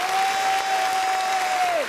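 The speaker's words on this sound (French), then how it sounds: "C'est officiel. Applaudissez encore." Audience applause on a French-language TV talk show, a dense steady wash of clapping with a sustained tone running underneath that bends downward at the end.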